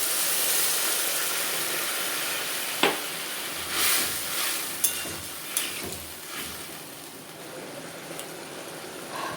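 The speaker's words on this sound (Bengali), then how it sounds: "এখন জল দিয়ে দেব" Soft steady sizzle and hiss from a hot pan of mixed vegetables after water goes in, with several sharp clinks and scrapes from stirring scattered through.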